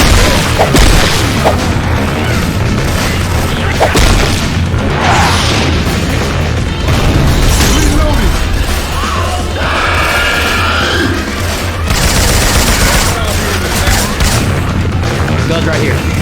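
Loud, dense game combat from Left 4 Dead 2 fitted with Syphon Filter weapon sound effects, with repeated booming gunshots and blasts running almost without pause across the whole stretch.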